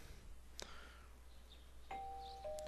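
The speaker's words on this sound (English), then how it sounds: "You hear a doorbell ring. Someone is at the door." A doorbell in Persona 4 gives a clear two-tone ding-dong, a bright chime that sustains over quiet game ambience, with soft clicks before it and no talking.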